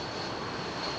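A Swiss Airbus A220 jet roars steadily on landing approach at London Heathrow, a broad continuous engine rush, moderately loud and unbroken throughout.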